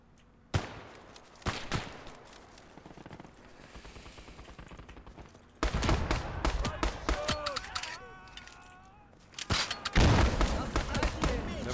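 Gunfire in the World War II game Call to Arms: Gates of Hell: sharp pistol and rifle shots, then dense bursts of machine-gun fire and heavy booms, loud and close, with shooting continuing to the end.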